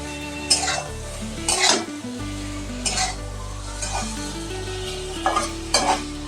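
Rui fish and potato poppy-seed curry being sautéed in a pan, a steady sizzle under rhythmic spoon scrapes and clanks against the metal at regular intervals.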